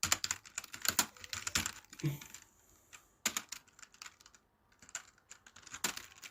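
Code being typed on a computer keyboard, bursts of quick, close key clicks in uneven flurries separated by short pauses, quiet and alone.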